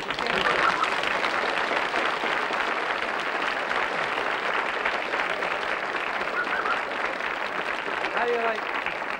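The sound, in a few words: studio audience applause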